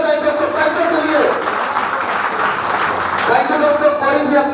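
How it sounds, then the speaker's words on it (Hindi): An audience at a business-plan seminar breaks into loud applause, a dense, continuous clapping that fills the room while a voice talks over it through much of the stretch. "एक बार अपने लिए जोरदार तालियां बजाइए दोस्तों पैसे के लिए"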